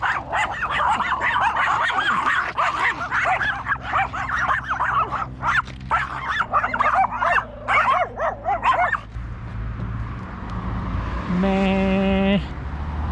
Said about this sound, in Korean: 강아지